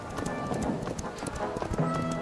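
A horse gallops in the King's Quest video game, its hooves clip-clopping in a fast, close, steady rhythm throughout.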